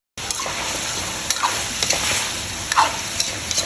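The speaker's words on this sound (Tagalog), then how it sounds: "At ngayon ay isasama ko na rin sa gisa." Vegetables sauté in a pan for chicken macaroni soup, with carrots among them, giving a steady close sizzle broken by the scrape and clatter of stirring.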